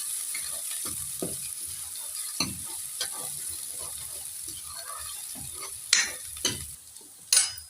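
Turmeric powder and MDH spices frying in a pan, a quiet steady sizzle with occasional louder stirring scrapes and clinks near the end, no talking.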